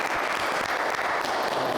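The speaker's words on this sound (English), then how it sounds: "Clap it up." Dense, even clapping from a small group fills the whole short stretch at moderate loudness, with no voices standing out.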